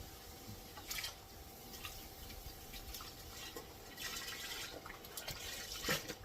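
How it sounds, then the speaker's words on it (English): Gumbo simmering on low in a pot on the stove gives off soft, quiet bubbling, scattered pops and wet blips at an irregular pace, with a few louder bursts toward the end. "I swear I got my stove on low. I don't know why it's doing all that bubbling."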